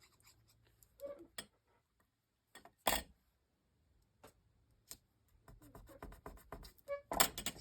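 Scissors snipping a paper flower piece for a nine-patch star quilt block card, heard as a few soft, close cuts and small paper rustles scattered across a mostly quiet stretch.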